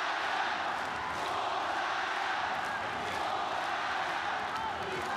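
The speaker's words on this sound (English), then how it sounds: "Listen to the crowd." Roaring crowd noise fills the sold-out Mall of Asia Arena in Manila during a ONE Championship MMA bout, a steady, loud wash of cheering and shouting with a commentator's voice running over it.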